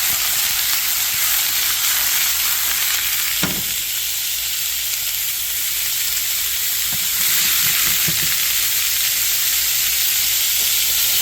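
Vegetables sizzle and fry steadily in a hot pan, seasoned with black pepper, ground ginger, garlic powder and onion powder, with a couple of brief stirring clatters partway through; no one speaks.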